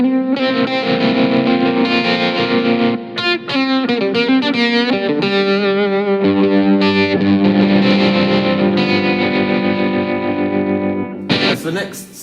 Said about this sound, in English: the second setting I've just programmed in is like an AC30 kind of sound